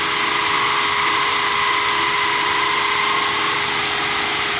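A power drill bores a hole through a sheet of glass, running as a steady, continuous high whine under light hand pressure, close and fairly loud with no talk.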